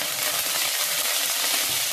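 Curry leaves hit hot oil already tempered with fennel seeds, for prawn thokku, and crackle in a loud, dense, continuous sizzle up close with no voices.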